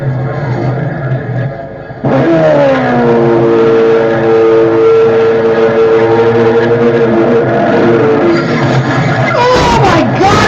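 A NASCAR race car crash during a race, with loud sustained engine roar and tonal whine, a sudden surge of impact and engine noise, and a crowd faintly beneath, near and loud throughout.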